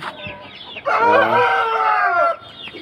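A Lakha Aseel rooster, an Indian line big-size bird, crows once, loud and close: a long drawn-out call that holds for over a second after a brief lower lead-in, with no talking.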